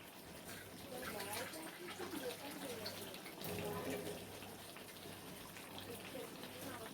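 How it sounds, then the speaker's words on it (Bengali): Water poured from a small bowl into a pan of simmering chicken kanti makes a steady splashing hiss that runs through the whole stretch at even loudness. "দেখো এই জলটা আমি অ্যাড করে দিলাম"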